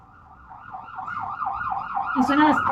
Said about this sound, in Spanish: Y suena la sirena de emergencia.